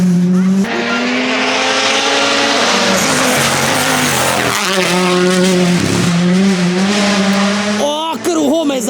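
A WRC rally car at the 2022 Croatia rally screams past at close range, engine loud and sustained with a pitch sweep as it passes, then a second rising rev near the end, with people talking under it.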